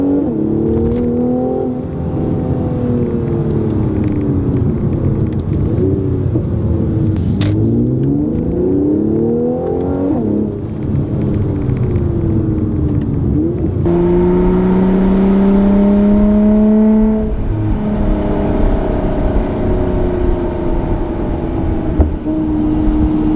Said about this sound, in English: It's lively, it's growly, it has crackles and bubbles,